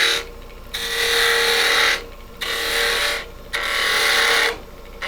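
A small handheld rotary power tool, turned down in speed, carves a woody banksia pod in close, loud bursts, four grinding passes of a second or so each separated by brief pauses.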